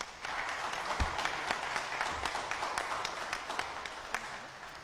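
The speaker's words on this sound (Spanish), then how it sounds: "Démosle un fuerte aplauso" An audience at a psychology talk on suicidal behavior applauds steadily to welcome a speaker, a dense wash of clapping heard from a distance at moderate volume.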